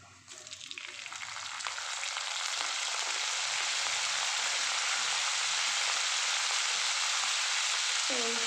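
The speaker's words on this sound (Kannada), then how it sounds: "ಇವಾಗ ನೆಕ್ಸ್ಟು ನಾನು ಕರಿಬೇವನ್ನ ಆ್ಯಡ್ ಮಾಡ್ತಾಯಿದ್ದೀನಿ" Curry leaves crackle and sizzle in hot oil for a South Indian tempering to go into curd rice, a loud, steady frying hiss that swells within the first second and holds close to the microphone throughout.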